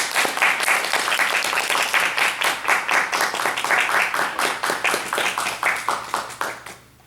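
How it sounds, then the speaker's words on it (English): Sustained applause from a workshop audience for the morning's speakers, dense steady clapping that holds for several seconds and then quickly tapers off at the end. "can I please get a round of applause for all the speakers this morning?"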